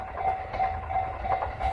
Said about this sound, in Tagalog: malapit na ang dumating ang tren.